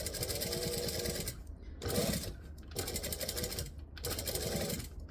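A sewing machine stitches an Empress add-on, running in steady motor bursts with three short pauses between them, close and fairly loud with no talking.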